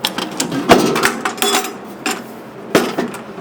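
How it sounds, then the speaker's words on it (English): A metal ammo can lid is closed with several close, sharp metallic clanks and knocks, one louder snap standing out, and no talk. "close up Mr. Ammo can."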